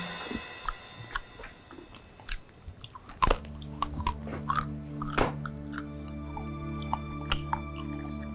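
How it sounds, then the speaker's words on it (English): Close, wet chewing of palm kernels with irregular bites and squishy, dripping clicks, growing steadier and louder after a few seconds, heard alone without talk. "What are you eating? Pan kernel."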